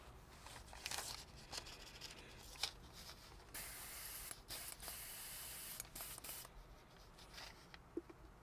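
An airbrush back-flushes with cheap IPA while being cleaned between paint colors, giving repeated hissing spray bursts of varying length, close and fairly quiet.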